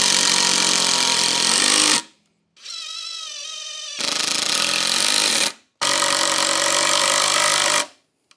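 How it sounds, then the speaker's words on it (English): A power drill drives screws straight down through a sawhorse top into its wooden legs, loud bursts of high whirring broken by a brief silence and a softer whining run, no talk. "We're going to put a couple of screws down through the top, just straight down into the legs here."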